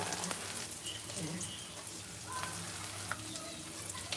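Ginger and onion frying in a pan, a soft continuous sizzle and crackle with faint stirring, fairly quiet and close.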